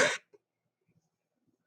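A single harsh, rough cough bursts out loud at the very start, cut short after a fraction of a second, followed by near silence with only a few faint small knocks.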